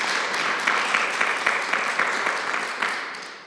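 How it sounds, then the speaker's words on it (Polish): Audience applause at an opera-house talk before a Chorus Opera performance, a steady moderate clatter of many hands clapping that slowly fades toward the end. "To również proszę o brawa."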